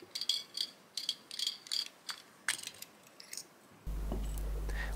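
Small metal clicks and ratcheting turns as the threaded top of a carburetor is unscrewed, a quick uneven series of close taps, followed by a steady low hum at the end.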